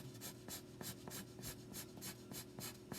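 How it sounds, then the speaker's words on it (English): A pencil lightly sketching lines on paper, a steady series of soft, even scratchy strokes repeating about three times a second, close and quiet. "I'm not giving a lot of pressure on my pencil. I'm just kind of lightly sketching those lines."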